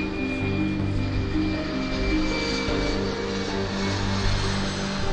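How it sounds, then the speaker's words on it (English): An airplane near an airport police station gives a steady, loud engine roar that holds without a break, close and unchanging, with no talking. "my target, the plane, is right in front of me."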